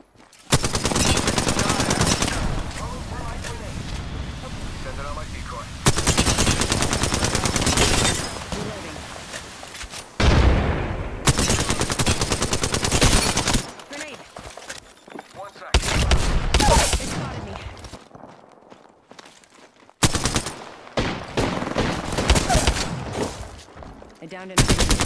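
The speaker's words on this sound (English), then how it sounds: "Getting shot at." Bursts of automatic gunfire crackle and rattle in a video game shooter, loud volleys alternating with brief quieter gaps, one salvo after another across the stretch.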